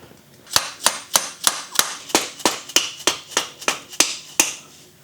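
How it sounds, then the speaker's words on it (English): A mallet strikes a tight, powder-coated GT linkage bolt on a Honda 450R quad, about fourteen sharp close taps in a steady, even rhythm. "Mallet to the rescue"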